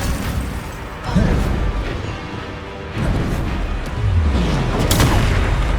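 Depulsor spell blasts in Hogwarts Legacy, a few heavy booming impacts a second or two apart over a rumbling combat backdrop.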